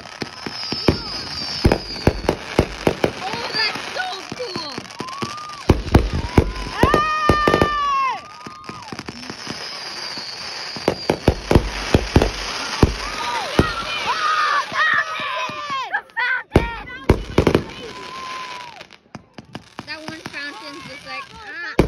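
Fireworks burst repeatedly over a beach at irregular intervals, some sharp cracks and rumbling booms, while people nearby talk and exclaim excitedly throughout.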